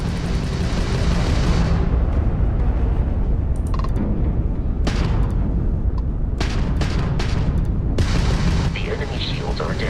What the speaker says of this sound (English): If you can keep the enemy ship centered on the HUD, we can lock in to fire a homing missile.